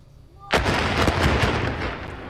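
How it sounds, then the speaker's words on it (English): Explosive demolition of the I-70 Rocheport Bridge over the Missouri River: a sudden loud blast after a brief quiet, followed by a sustained, heavy rumbling roar that slowly eases. "Watch as an explosion brings down a historic Missouri bridge."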